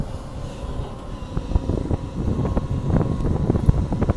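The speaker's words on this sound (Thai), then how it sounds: "ลมแรงมาก ๆ ครับวันนี้" Strong wind buffets and rumbles continuously, a heavy low roar with gusty bursts and no voices.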